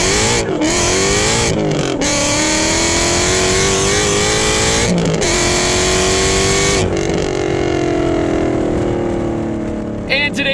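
A supercharged 800 HP Ford Mustang GT Track Attack engine revs loud and close, with repeated rising and falling throttle blips and a sustained roar between them.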